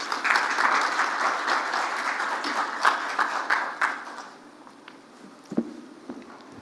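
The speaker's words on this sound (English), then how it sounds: "A round of applause as Prof comes." Conference audience applauding as a professor and network president walks on stage, a broad wash of clapping that holds steady for several seconds, then thins to scattered claps and a few footsteps.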